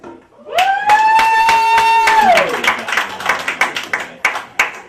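A comedy club audience gives a scattered round of applause, with a long drawn-out whoop at the start followed by loose, uneven claps that thin out toward the end.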